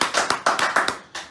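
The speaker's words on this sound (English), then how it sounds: "You guys give me a round of applause." Sparse clapping from a small audience at a political campaign event, a handful of distinct close hand claps in an uneven rhythm, not a full ovation.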